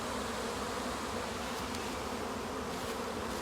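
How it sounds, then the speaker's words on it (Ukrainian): A swarm of honeybees drones loudly at an apiary where a second swarm is settling, the dense buzzing steady and close with no voices. "Так, ну а тут походу якийсь інший рій сідає."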